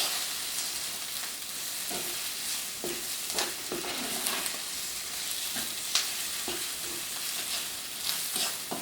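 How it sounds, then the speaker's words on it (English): Shallots caramelize in a pan with a constant bright sizzle and scattered crackles and utensil scrapes, steady and close throughout. "And caramelizing these brings out the sugar in them also."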